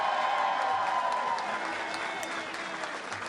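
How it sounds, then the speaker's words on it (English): Sustained audience applause after a call to honor a family at Larry Hogan's election victory night, a dense crowd clapping loudly and evenly throughout, tapering slightly toward the end. "How about a big round of applause for all of them as well?"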